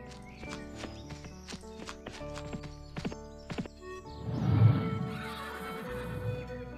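Horses whinny loudly and close by while hooves clip-clop in a quick, steady series of sharp knocks through the first half, then a louder, rougher neigh swells near the end with no talking.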